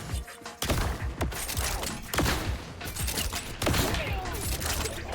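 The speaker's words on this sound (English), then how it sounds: "Just wanted to take a few more pop shots." Gunfire in the video game Borderlands, a dense rattle of rapid shots and thuds with sharp bursts, loud and continuous throughout.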